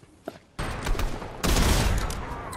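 Shotgun blasts in the Fortnite video game: a small click, then two loud, close booming shots about a second apart, each followed by a dense crackling roar that fades slowly.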